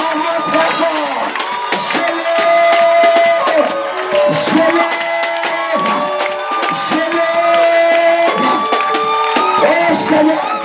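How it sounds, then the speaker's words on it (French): A church congregation at a gospel preaching service applauds and cheers loudly and continuously, with shouts and whoops rising and falling in a dense, sustained crowd roar, singing or voices blending throughout. "Acclamons très fort."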